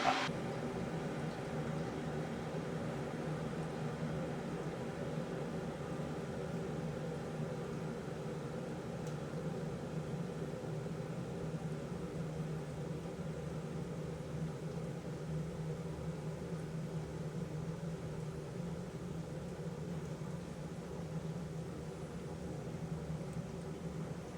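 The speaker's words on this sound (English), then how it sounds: "Oh, kettle's done." An electric kettle boils steadily in a kitchen for over twenty seconds, a constant close rushing hiss and rumble with no clear breaks and no voices.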